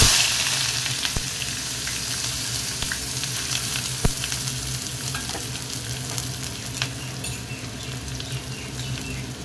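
Onion frying in hot oil in a kadai for a Marathi leafy vegetable dish, a steady close sizzle with scattered crackles and pops throughout, no talking.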